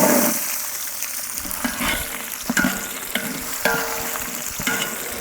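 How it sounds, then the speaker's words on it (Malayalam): Finely chopped garlic, about three-quarters of a kilo, fries in hot oil for lemon pickle, a steady close sizzle broken by several sharp scraping stirs of a spoon against the pan, with no talking. "നമുക്ക് വെളുത്തുള്ളി ഒന്ന് ഇട്ട് കൊടുക്കാം."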